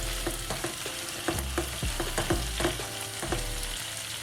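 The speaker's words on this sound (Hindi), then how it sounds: "चॉप्ड अनियन ऐड कर देंगे और उसको 1 to 2 मिनट स्टर करते रहेंगे" Chopped onions and tomatoes fry in a pan for a spicy tomato chutney, a steady sizzle broken by a rhythm of spoon scrapes and stirring clacks, close and clear with no talk.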